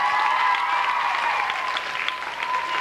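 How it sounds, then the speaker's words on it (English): Students and staff applauding the team at a middle school pep rally, a sustained, even roar of clapping in a large room, with a faint tonal hum running beneath. "So give them a round of applause."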